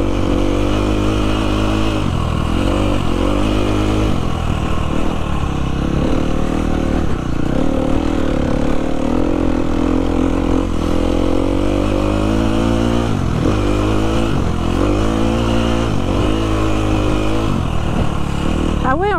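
Motocross bike engine revving and surging as it rides through sand on a motocross track, loud and continuous throughout with repeated throttle swells and people talking over it.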